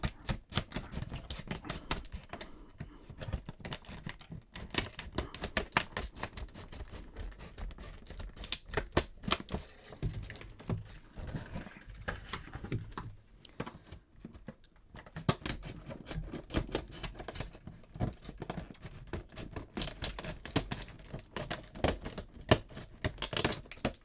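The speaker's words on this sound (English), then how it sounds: "these scissors are too small. Let me grab the big ones." Large scissors cut open an old cardboard action figure box in a rapid, continuous series of close crisp snips and crunches that runs without pause.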